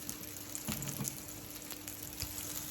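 Eggplant slices frying in a pan, a constant close sizzle with a few soft stirring clicks and scrapes over a low hum, and no one speaking.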